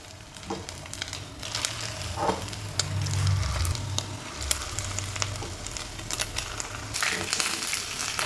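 Chicken pieces for a spicy garlic chicken fry in oil in a pan, a continuous close sizzle with crackles and pops and occasional stirring clatter, no talking.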